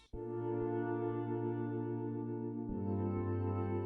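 A sustained Omnisphere synthesizer organ pad holds steady chords, loud and alone, with a chord change near the end.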